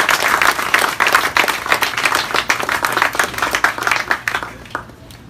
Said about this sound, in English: So please, a warm round of applause for each and every one of you.